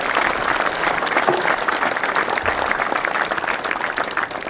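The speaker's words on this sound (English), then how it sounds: "Please give all parties a big round of applause." Sustained, dense applause rises from spectators and participants at a national softball championship in Australia, a loud, even wash of many clapping hands that holds steady throughout without any speech.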